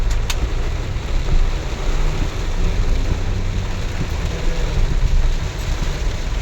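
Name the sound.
rain falling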